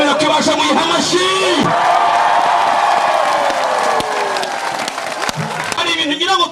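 A church congregation bursts into loud applause mixed with cheering and shouted voices, a dense, close crowd roar that swells and fades over several seconds.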